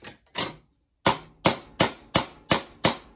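Ball peen hammer tapping a new tip into a chainsaw bar: eight sharp, close metallic taps, two quick ones, a short pause, then a steady evenly spaced series, with no talking.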